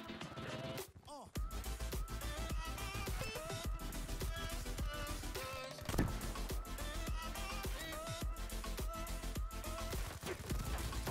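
Gunfire rattles in Call of Duty Black Ops 3, rapid repeated shots and bursts layered over game music and effects, with a brief pause before the shooting resumes and continues steadily.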